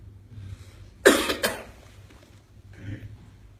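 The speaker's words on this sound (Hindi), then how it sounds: "जब तक वो गला फ्रेश करते हैं" A man coughs and clears his throat at a meetup in Karachi, two sharp close coughs followed by a faint throat-clearing rasp over quiet room noise.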